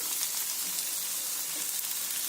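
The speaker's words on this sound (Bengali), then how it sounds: "এটা ঢাকনা দিয়ে এটা ফ্রাই করতে হবে" Malabar spinach seeds frying slowly in a covered pan over low heat give off a steady, soft, hissing sizzle. The sound is quiet and even, and no one speaks over it.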